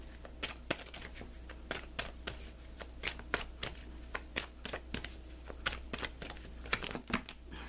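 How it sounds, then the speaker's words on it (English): Tarot cards are shuffled close by in a quick series of crisp riffling flicks and soft slaps, repeating steadily and fairly quietly throughout. "I'm going to reshuffle these"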